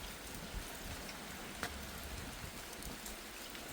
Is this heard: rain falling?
yes